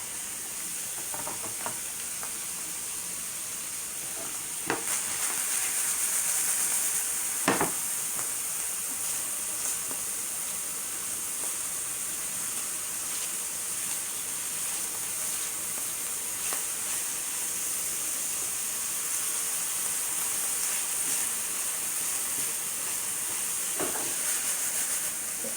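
Black beans and quinoa cooking in a pot give a steady hiss and faint bubbling sizzle, close and continuous, with a few brief clinks and knocks now and then, no talking.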